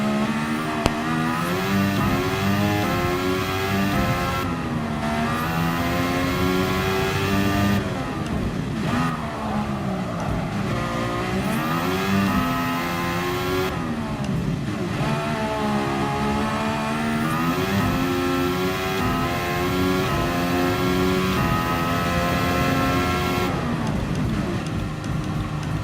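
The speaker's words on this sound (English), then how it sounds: "The turbo sounds of this thing, man. And the power it has." A turbocharged race car engine in the video game Gran Turismo Sport revs up and down repeatedly, with rising and falling pitch sweeps and a continuous loud, close whine through the shifts.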